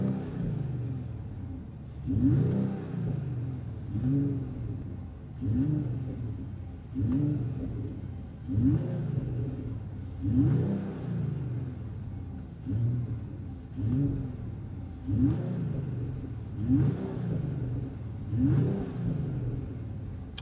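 A Mercedes-AMG CLE53 Coupe engine revs repeatedly in a steady rhythm, deep rumbling bursts rising and falling about every second and a half, loud and close.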